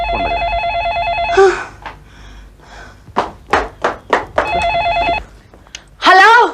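An old-style telephone bell rings in two bursts in an indoor scene, with people talking in between and after.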